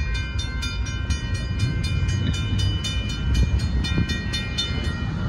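A northbound Union Pacific sand train rolls past at Oltorf Street in Austin, Texas, giving a steady rumble and rhythmic wheel clatter over the rails for the whole stretch. It sounds fairly close and fills the clip with no talking.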